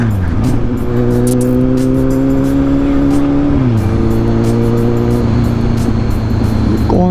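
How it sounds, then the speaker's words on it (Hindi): A car engine drones loudly and steadily, its pitch holding, dipping midway, then climbing again as the vehicle runs, with a dense wash of road and wind noise throughout. "कौन सी कार है? Testing car."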